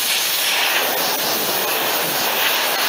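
A compressed-air gun blasts a continuous loud, close hiss while blowing dust out of an EFI engine from roughly 30 cm away, steady throughout.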